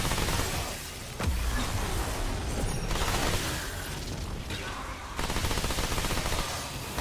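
SMG fire in the co-op shooter Remnant 2, a dense, continuous rattle of rapid shots in long sustained bursts with brief pauses, loud and close with chaotic combat noise.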